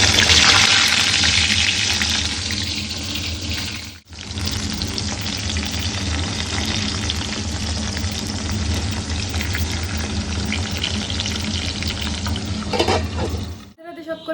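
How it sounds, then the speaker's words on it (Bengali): Pointed gourd coated in salt and turmeric frying in hot oil, a loud continuous sizzle that runs on and on, broken by a sudden short dip early and a brief stop near the end, with no talking. "যে পটল নুন হলুদ মাখিয়ে রেখেছিলাম আর এই যে ভাজা বসাবো বলে তেলটাও গরম বসিয়ে দিয়েছি"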